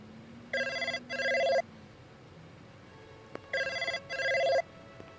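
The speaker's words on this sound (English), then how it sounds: "My phone." A telephone rings in the Blade Runner video game with two electronic double-trill rings separated by a pause, clear and moderately loud over a quiet background hum.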